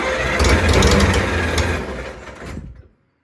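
A Farmall Cub tractor engine runs at about three-quarter throttle with a little choke, a loud, steady mid-pitched chugging rumble close by that fades and cuts out near the end.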